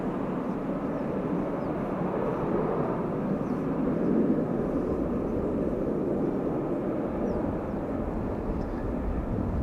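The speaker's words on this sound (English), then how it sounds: "The A350 has landed. All right. And the reversers being applied." An Airbus A350 landing with thrust reversers applied makes a faint, distant, sustained rumbling roar that swells slightly midway and stays even throughout.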